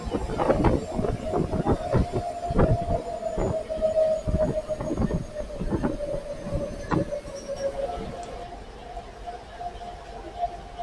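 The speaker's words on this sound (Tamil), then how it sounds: "Successfully ஏறியாச்சு train." A MEMU passenger train runs between Erode and Palakkad, heard from inside with rhythmic clattering wheel beats over a steady hum and a faint tonal whine, fading slightly toward the end.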